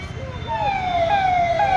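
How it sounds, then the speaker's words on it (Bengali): An ambulance siren wails steadily through a street as the vehicle passes nearby, its rising and falling tone loud over traffic rumble. "অ্যাম্বুলেন্স যাচ্ছে।"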